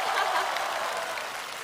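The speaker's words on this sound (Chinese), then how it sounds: "掌声再热烈点呗。" Audience applause at a televised Spring Festival Gala fills the hall, a dense, steady wash of clapping sustained throughout without voices.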